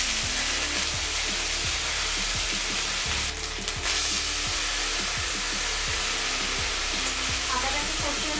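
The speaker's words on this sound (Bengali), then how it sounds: "তেল গরম হলে দিচ্ছি জিরে ফোড়ন, দিয়ে দিচ্ছি আদা বাটা" Cumin seeds and ginger paste crackle and sizzle steadily in hot mustard oil, a dense continuous frying hiss with frequent sharp pops and stirring, close and fairly loud throughout with no talking.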